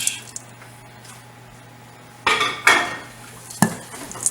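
A spoon scraping and clinking in a bowl while mixing toppings into kitchen sink cookie dough, with a few sharp knocks and scrapes after a quiet stretch, close and loud.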